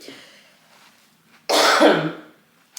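A single loud, harsh cough bursts out after a quiet moment with faint breathing, then fades away.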